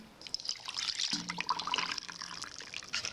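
Milk poured over cocoa, sugar and oil for a wet brownie cake sauce, making a close, gurgling liquid pour with bubbly trickles over about three seconds.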